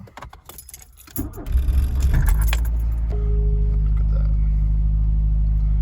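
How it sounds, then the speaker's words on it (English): A VW Golf MK2 engine starts on choke: keys jangle, the starter cranks briefly, then the engine catches and settles into a loud, steady, raised idle. A person speaks briefly near the start. "Start the car. I'm gonna have to use a little bit of choke"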